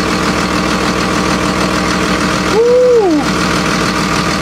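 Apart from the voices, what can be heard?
Cummins diesel truck engine idling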